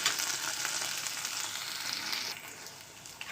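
Ingredients for pudina pachadi fry in a pan, giving a continuous close, dense sizzle that eases slightly toward the end, with no talking.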